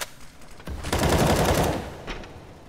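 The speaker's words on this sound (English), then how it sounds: "Throwing a grenade." A grenade blast and a burst of gunfire ring out in Counter-Strike on the Nuke map, loud and close, rising sharply then fading over a couple of seconds.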